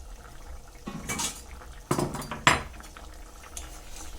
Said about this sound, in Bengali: কিছুক্ষণ পর ঢাকনাটা খুলে নিলাম।